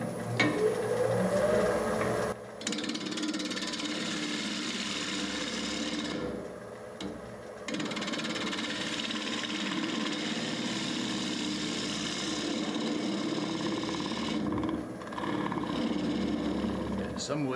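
Wood lathe spinning while a gouge cuts into turning wood, a continuous mechanical hum with scraping texture that briefly drops out twice, with someone talking over it.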